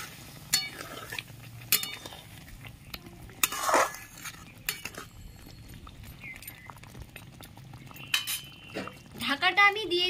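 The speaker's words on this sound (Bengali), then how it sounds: "আমি যেই বাটিতে তিল বেটে রেখেছিলাম সেই বাটিটা ধুয়ে একটু সামান্য জল দিয়ে দিচ্ছি।" A metal bowl used for grinding sesame is rinsed in a home kitchen and then gets a splash of water. Sharp clinks and knocks of the bowl come in scattered bursts over a quiet background, with a brief watery swirl near the end.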